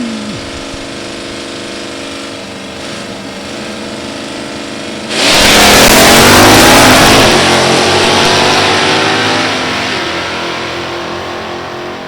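Ford 428 Mustang and Chevrolet 305 Malibu at a drag race, engines idling loudly before a sudden roaring launch that surges, then fades into a sustained high rev.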